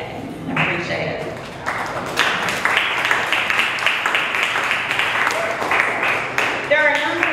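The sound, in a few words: audience applauding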